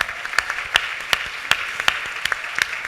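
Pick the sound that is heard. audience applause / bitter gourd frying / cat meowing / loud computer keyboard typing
audience applause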